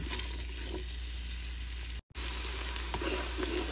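Onions for maqluba fry in hot oil, a steady, dense sizzle that runs loud and close throughout, broken only by a brief dropout midway, with no talking.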